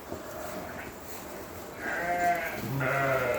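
Older cull ewes being fattened for meat bleat twice in quick succession, fairly close, over a steady low background hum.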